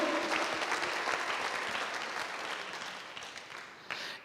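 A church congregation bursts into applause for newly saved believers, giving a thick, continuous clatter of many hands that slowly tapers off, with one sharper clap near the end.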